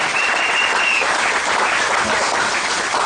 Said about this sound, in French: Alors applaudissez pour vous-même.